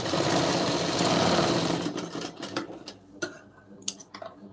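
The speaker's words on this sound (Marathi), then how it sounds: "परत एकदा मी टीप मारून घेते" A sewing machine stitches a lined blouse, its fast, even mechanical run close and steady for about two seconds before it stops, leaving scattered clicks and handling knocks.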